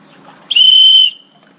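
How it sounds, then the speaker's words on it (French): A single shrill blast from a survival whistle, loud and steady for about half a second, then silence. "Un sifflet."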